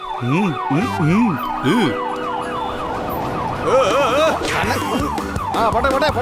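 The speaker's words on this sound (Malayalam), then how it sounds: "അവിടെ ഒരു ആംബുലൻസ് കുടുങ്ങി." An ambulance siren wails loudly with rising and falling sweeps, overlapping tones and traffic rumble beneath.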